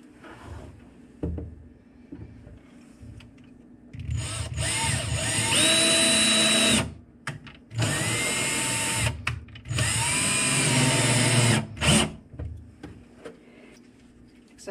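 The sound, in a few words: power drill drilling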